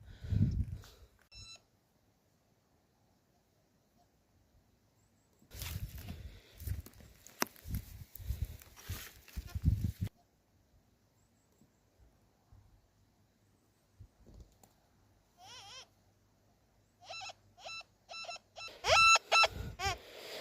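Metal detector swept over rocks at an abandoned British gold mine, giving bursts of high electronic signal tones and warbling beeps amid rustling and crunching steps on stone, with quiet gaps between.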